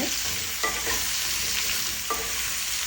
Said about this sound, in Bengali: নেড়ে চেড়ে 5 মিনিটের মতো আমি ভেজে নেব।